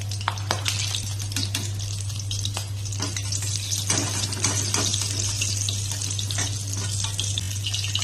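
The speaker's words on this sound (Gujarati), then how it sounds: "તો અહીંયા મરચી તળાઈ ગઈ છે" Two green chillies fry in oil for a pani puri flavour, a steady sizzle with scattered pops and stirring, close and alone over a constant low hum.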